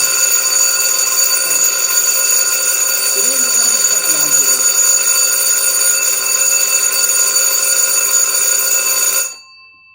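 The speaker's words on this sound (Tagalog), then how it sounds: "Alarm siya." An electric alarm in a control circuit, built to be silenced with a reset button, rings as a loud, steady buzzing bell for about nine seconds before cutting off abruptly, with faint talk in the background.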